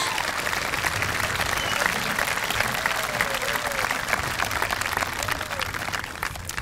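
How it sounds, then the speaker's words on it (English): Sustained round of applause from a large audience at a 2014 high school graduation ceremony, dense steady clapping filling the hall throughout with crowd noise. "Let's give all these students that took part in these accomplishments a nice round of applause"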